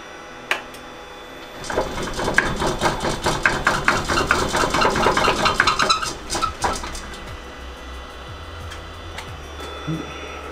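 Wood lathe spinning up for multi-axis woodturning, a rough rhythmic thumping and rattling that builds over several seconds, peaks, then cuts off, leaving a quiet hum.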